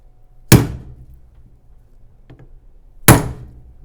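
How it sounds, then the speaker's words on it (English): A hammer striking a battery terminal crimp on a car battery kill switch install: two sharp, loud, close whacks about two and a half seconds apart, with a faint tap between them. "Now I just got to give her a good whack with a hammer."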